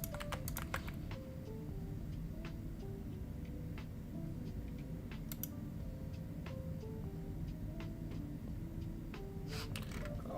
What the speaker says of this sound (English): I love your keyboard. Yeah, it's a fire keyboard. Nuclear 75.